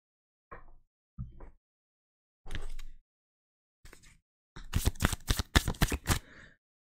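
Tarot cards handled close up in a quiet room: a few separate slides and taps, then a fast run of crisp riffling flutters near the end, with no voices.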